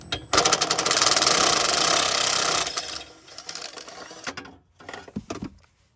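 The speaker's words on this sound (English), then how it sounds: "we all know I'm gonna use the impact on these." An impact wrench hammers loose hot exhaust bolts on a 2.5 engine during a downpipe and exhaust swap: one long loud rattling burst, then shorter bursts with pauses, close up.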